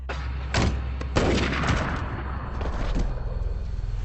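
A gunshot sound effect gives a couple of loud, sharp blasts, each trailing off into a rumbling echo and noisy decay.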